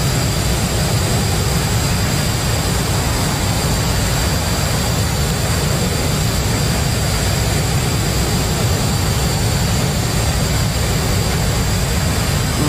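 An F-16C Viper jet engine at afterburner in the DCS flight simulator gives a steady, unbroken roar with a faint high whine on top, loud and even from start to finish.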